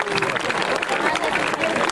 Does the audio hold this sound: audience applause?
yes